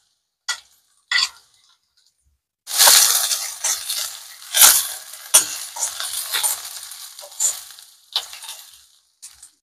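Curry leaves and green chillies drop into hot oil, bursting into a loud crackling sizzle after a couple of faint early clicks, then popping and spitting unevenly for several seconds at close range.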